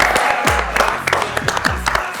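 A studio audience applauds to welcome a guest onto a Pakistani talk show, a dense patter of claps mixed with a voice talking over it.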